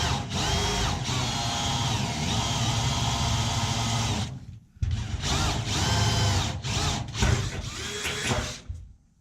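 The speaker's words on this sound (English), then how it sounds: "right there is that 1/8-inch hole that I drilled" A power drill bores an 1/8-inch hole through the steel floor of a 1973 Dodge Dart, a loud close whine running steadily for several seconds, then stopping and restarting in short bursts.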